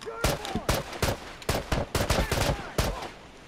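Rapid bursts of gunfire in an online shooter video game, a string of sharp, loud cracks in quick clusters, close and dominant, with faint talk barely present underneath.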